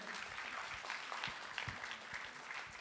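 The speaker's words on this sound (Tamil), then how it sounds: "இன்னும் ஒரு பலத்த கரவொலி எழுப்பலாமா?" Audience applause at a Plano Tamil school's 25th anniversary celebration, a steady wash of clapping from a crowd at moderate distance, continuous for a few seconds with no speech over it.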